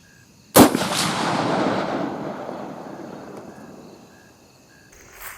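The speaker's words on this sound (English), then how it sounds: "here's second shot with the 30-30 after adjustments" A single loud 30-30 rifle shot fired while deer hunting, a sharp crack followed by a long rolling echo that fades over several seconds outdoors, with insects chirping faintly in the background.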